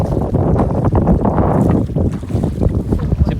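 A boat ride on the Muttukadu backwaters near Chennai, with heavy wind buffeting the microphone over a steady engine drone and water noise, loud and continuous throughout.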